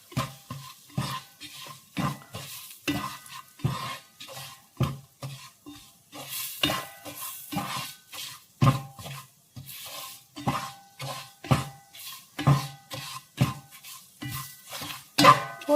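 Ground spices and crushed black pepper stirred in a pan for a home-cooked rasam, a rhythmic run of scraping spoon strokes over a soft sizzle, close and steady throughout with no talk.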